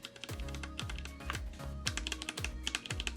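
Rapid, steady keystrokes on HiMu mechanical keyboard switches, with crisp clustered clicks close to the listener and no talking.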